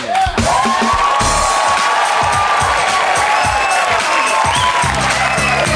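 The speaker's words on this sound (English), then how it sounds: "Give out some claps for Christy Grundine" A television dating-show studio audience claps and cheers loudly and continuously, with whoops rising over the crowd noise throughout.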